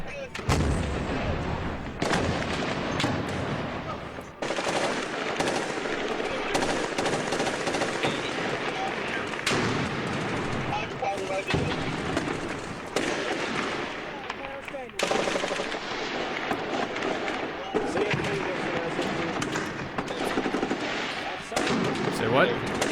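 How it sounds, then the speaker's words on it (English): Sustained gunfire sent well over a platoon during a military exercise, with dense overlapping rifle and machine-gun bursts rattling loudly and continuously, and sharp individual reports punctuating the steady barrage throughout. "we're just gonna send rounds well over the platoon. Give us some actual fire to react to."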